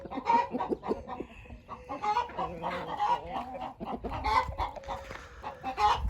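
Young rooster and hens of Sussex, Australorp and Brahma breeds cluck and chatter in a coop, several birds with overlapping bursts of clucks and short calls at close range, no speech.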